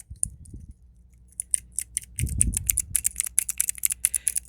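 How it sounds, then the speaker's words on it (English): Rapid keyboard typing clatters close by in quick, uneven bursts of key clicks, joined partway through by a low rumble, with no voices. "sounds like somebody typing."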